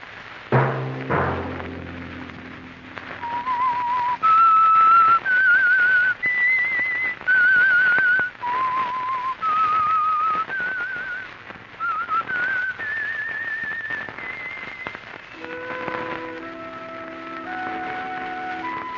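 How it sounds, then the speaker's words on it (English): A clear, melodic whistled tune, the Signal Oil radio program's signal, rises and falls over several seconds, loud and close, with a brief thump at the start and a soft instrumental ending. "Let that whistle be your signal for the Signal Oil program"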